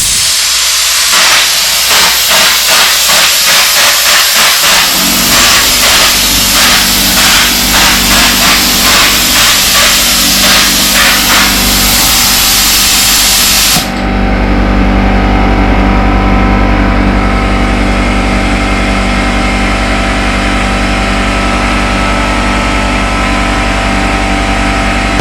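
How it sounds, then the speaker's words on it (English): An air-powered drywall texture hopper hooked to a compressor sprays texture onto a sheetrock wall patch with a loud, continuous hiss and rapid pulsing, then shifts to a steady roaring airflow and compressor drone, with no talk. "In order for this hopper to work, you got to hook it up to a compressor with an air hose."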